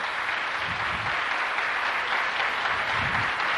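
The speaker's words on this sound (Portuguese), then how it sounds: "Vamos dar uma palmas para mostrar a eles" A standing audience gives loud, sustained applause, dense even clapping filling the room without a break.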